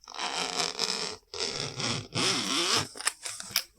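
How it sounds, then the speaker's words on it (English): The zipper of a Sony WH-1000XM4 headphone case is drawn back and forth several times in short, raspy strokes, close and fairly quiet, with brief pauses between pulls. "yeah, the zippers sound nice."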